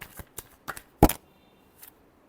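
Tarot cards being shuffled by hand, a few quick crisp riffles and flicks, with one louder snap near the middle and a faint final flick, close and alone.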